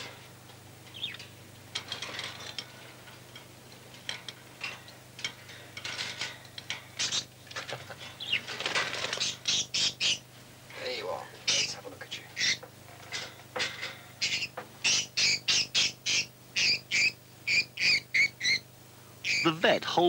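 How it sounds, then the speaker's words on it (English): A budgie squawks in a rapid run of sharp, loud chirps and harsh calls while being caught for a claw clip at a vet's, with rustling and handling noise and speech-like bursts throughout. "Holds the bird firmly so that he can clip its claws."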